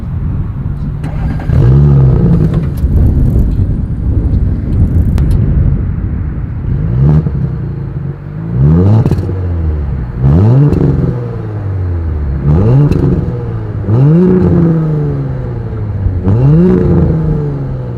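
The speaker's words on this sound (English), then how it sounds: "dual exhaust outlets with quad bright tips" A 2020 Audi S4 with dual exhaust revs repeatedly, about seven sharp rising-and-falling throttle blips in a steady rhythm, loud and close over a low idle.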